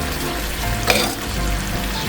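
Chicken pieces fry and sizzle in a honey gochujang butter sauce, a steady close crackle running throughout with a brief sharper spit near the middle; no one speaks.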